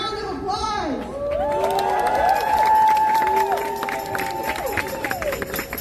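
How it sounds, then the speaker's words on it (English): Crowd cheering and applauding at an outdoor Palestine protest, loud whooping voices and a dense clapping wash held throughout, with shouts rising over the noise. "Please give us a round of applause."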